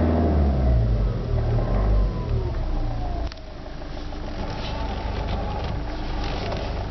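A 2011 Toyota Urban Cruiser's engine revs steadily near 2,500 RPM, a loud, close, sustained hum that eases down slightly partway through and holds at a lower, even drone, with no talking.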